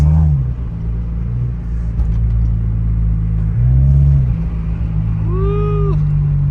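Honda Integra Type R driving at night, a steady close low engine rumble with interior road noise, a few rises in pitch, and a voice speaking briefly over it near the end.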